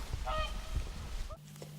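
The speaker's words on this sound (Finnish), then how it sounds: "Onko se joutsenia? Joo. Joutsenet lähteneet, niitä oli." Swans call as they fly off, a few honking cries carried outdoors over a wind-rumbled background, moderately distant.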